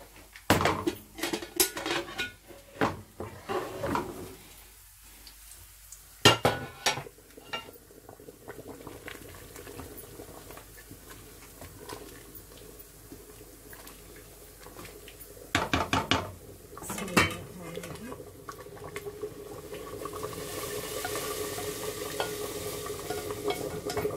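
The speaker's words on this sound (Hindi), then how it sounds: "अब हम दाल को बघार लेते हैं।" Spices are tempered into green lentil dal with mutton in a pan: bursts of loud sizzling and spluttering, clanks of a utensil against the pot, then a steadier bubbling hiss toward the end.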